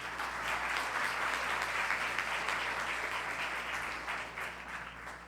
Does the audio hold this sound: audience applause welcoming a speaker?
yes